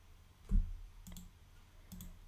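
Computer mouse clicked while working in Silhouette Studio software: three quiet, crisp clicks spaced about half a second apart, close up in a quiet room.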